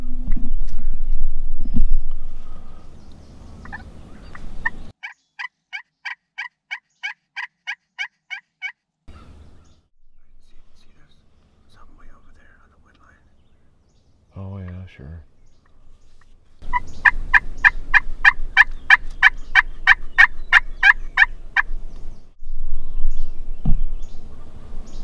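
An Eastern wild turkey gobbles in Minnesota, repeated rattling gobbles ringing out at moderate distance in a quiet outdoor setting, several separate bursts spaced through the stretch with faint rustling between.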